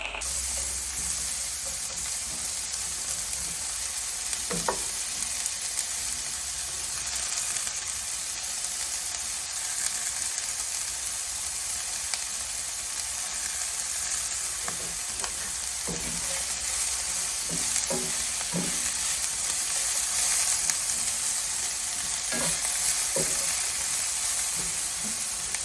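Bacon, pork cubes and onions sizzle steadily in a pot over medium-high heat, a continuous crackling hiss with occasional scraping stir clicks, close and alone.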